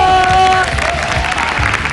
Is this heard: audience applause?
yes